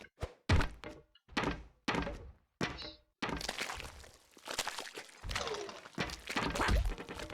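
Uppercut melee hits against grenadiers in the Broforce video game: a rapid series of punchy thuds and cracks, then denser overlapping impacts and clatter, loud and close.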